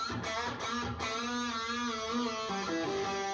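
Solo electric guitar plays a melodic lead line with bent notes sliding in pitch, a few picked attacks, moderately quiet and unaccompanied.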